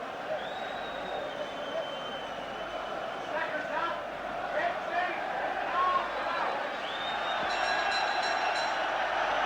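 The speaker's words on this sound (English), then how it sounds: "people are on their feet in the stands everywhere, clapping their hands above their heads, getting ready to cheer Mcguigan to victory" A boxing arena crowd during a featherweight title fight claps and cheers at a distance, a steady roar of applause swelling toward the end under a commentator's voice.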